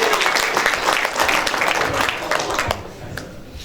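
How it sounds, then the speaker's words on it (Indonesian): An indoor crowd at a Bengkulu inauguration ceremony claps in dense, loud applause that holds steady, then thins and fades toward the end. "Tepuk tangan."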